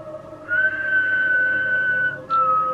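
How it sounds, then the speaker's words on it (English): A clear, sustained human whistle holds one steady tone, then breaks off briefly before a lower note resumes, loud and close, heard in a scene from The Walking Dead: Dead City. "The whistle."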